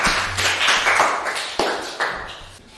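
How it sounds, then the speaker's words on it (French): A few scattered, distinct hand claps ring out in a school hall ceremony honoring a top-scoring student, the sparse claps fading over about three seconds with no talk. "Applaudissez pour elle."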